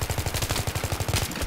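Rapid automatic gunfire in Battlefield 3, a steady burst of loud, evenly spaced shots running continuously without a break.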